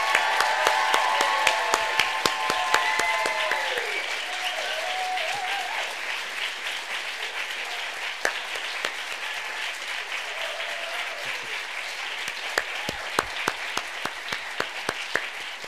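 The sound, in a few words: audience applause for debaters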